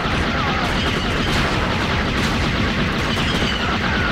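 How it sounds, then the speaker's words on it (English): A rapid-fire blaster in the original Star Wars Battlefront on the Polis Massa Medical Facility map, a continuous loud barrage of overlapping shots and booms with no pause. "it's not a burst, it's a rapid fire"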